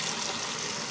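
Water flows into a Minecraft sink as a steady, hissing rush that stays constant and moderately loud, with no voices.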